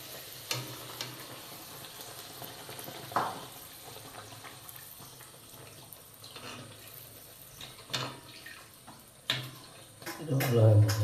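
Chicken fries in a pan for a chicken-and-luchi meal, giving a low steady sizzle with scattered small pops and clicks, then a louder clatter near the end.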